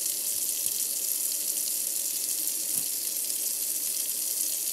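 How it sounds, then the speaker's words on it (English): Water runs steadily from a tap into a kitchen sink disposal during grinder pump maintenance, a constant close-up hiss and splash that holds even for several seconds. "And then I let that water run"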